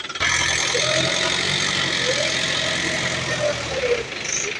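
A vehicle engine runs with a steady, fairly loud mid-pitched drone and a faint whining overtone across the whole stretch, with no voices.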